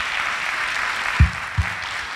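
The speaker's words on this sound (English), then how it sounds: "a big round of applause for them" Applause from the audience after a dance performance, a soft continuous wash of clapping with two brief low thumps partway through.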